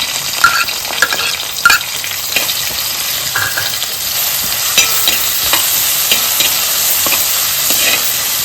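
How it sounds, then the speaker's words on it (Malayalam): Crushed ginger and garlic frying in hot oil for egg biryani, giving a loud, steady, close sizzle with occasional stirring scrapes throughout. "ഇനി മൂത്ത് വരുമ്പോഴത്തേക്ക് നമുക്ക് ഇത് ഇഞ്ചിയും വെളുത്തുള്ളിയും കൂടെ ചതച്ച് വെച്ചത് ഇട്ട് കൊടുക്കാം"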